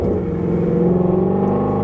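A Shelby GT350 with its exhaust valves open makes a throaty, rumbling engine note with a slightly pulsing growl, close and fairly loud, lasting about two seconds.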